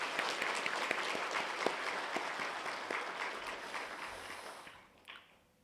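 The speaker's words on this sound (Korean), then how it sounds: "우리 격려와 위로의 박수 한 번만 좀 나누면 감사하겠습니다." A church congregation gives a round of applause during a Sunday afternoon service, steady dense clapping filling the room for about five seconds before fading out with a last few claps.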